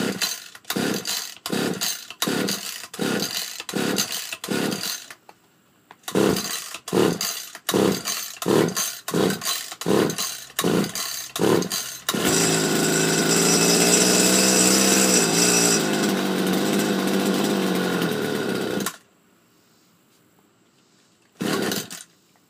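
A small 2-stroke hedge trimmer engine, run without a choke, is pulled repeatedly in sharp rhythmic bursts, catches and runs loudly at a buzzing high rev for several seconds, then cuts out, followed by one more brief pull.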